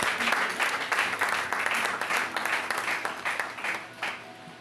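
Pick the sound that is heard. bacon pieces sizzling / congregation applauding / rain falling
congregation applauding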